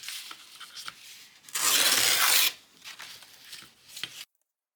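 Paper being torn into wedges for a junk journal page: one loud, sustained rip in the middle, with softer crinkling and handling noises before and after, close and with no voices.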